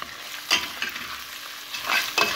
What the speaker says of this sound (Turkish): Ve tekrar bunu biraz kavuracağım.